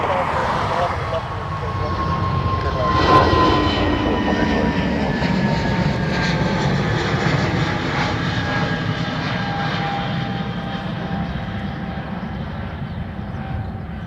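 Aircraft engine noise at Dublin Airport as a Lufthansa jet turns, a steady broad roar with a slowly falling whine, fairly loud and continuous throughout, with faint radio-style talk in the background.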